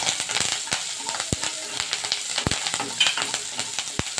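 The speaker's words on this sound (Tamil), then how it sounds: "வெங்காயம் நல்லா வதங்கிருச்சு பாருங்க" Onions, urad dal and curry leaves sautéing in a pan for broad bean poriyal, a dense continuous sizzle with sharp ladle taps and scrapes against the pan throughout.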